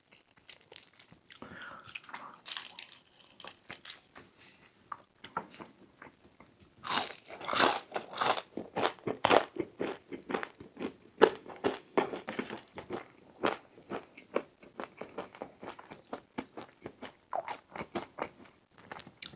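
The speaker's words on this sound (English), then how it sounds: "That smaller size crinkle cut though makes them extra crispy, so I won't complain." Close, crisp crunching and biting of small crinkle-cut Sonic Drive-In fries, with irregular bursts of chewing that grow denser and louder midway and continue in quick succession.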